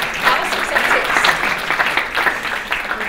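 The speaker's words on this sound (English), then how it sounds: "We clap for that." An academic panel audience claps together after a question on memory and historical analogies in world politics. The applause is dense, steady and fairly loud, with no voices over it.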